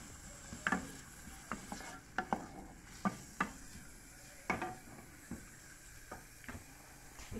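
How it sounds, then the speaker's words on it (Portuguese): Onion and garlic sautéing in a pot of oil, faint background sizzle broken by a series of distinct spoon scrapes and knocks against the pot, fairly quiet and close. "Primeiro uma refogada aqui na cebola e no alho."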